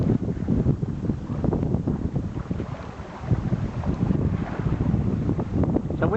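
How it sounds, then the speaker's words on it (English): Wind buffets and rumbles steadily over a sailboat motoring at sea near Wilsons Promontory in Bass Strait, a loud, continuous low roar with gusty swells. "Wind is just picking up a little bit."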